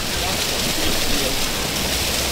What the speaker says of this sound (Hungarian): Az élet ironikus és csak akkor esik az eső, mikor videózunk, de Istvánnak van egy ötlete.